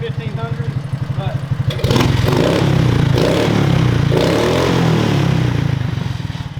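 A Trailmaster Mid XRX-R motorcycle engine idles with a rapid, even putter, then revs up into a loud, sustained roar with intake and exhaust noise, easing back near the end.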